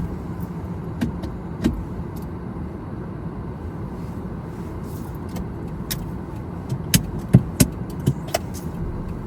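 A car pulls away on a driving test route in Bletchley, Milton Keynes, a low steady engine hum from inside the cabin with scattered clicks and knocks toward the end.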